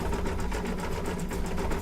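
Embroidery machine stitching a festive quilt block, a loud, steady rapid needle chatter with a regular pulsing rhythm, close and continuous with no voices.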